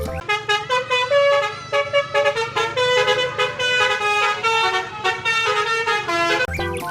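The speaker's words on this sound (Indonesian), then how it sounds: "Ada mobil bus telolet teman-teman." A toy telolet bus horn plays a bright, tuneful melody of rapid repeated honking notes, loud and close, running almost continuously with brief gaps.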